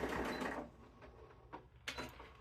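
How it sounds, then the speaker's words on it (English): A home sewing machine stitches straps onto a tote bag made from a T-shirt, running forward and then reversing. A steady, quiet mechanical whir at first gives way to short separate bursts of stitching. "we're going to sew and then reverse just a few times, just because I really like to make sure that my straps are secure"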